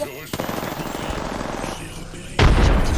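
Rapid gunfire in a video game, with a sniper rifle among the weapons, bursts out in a dense, rattling run before a louder blast near the end, with faint voice chatter underneath.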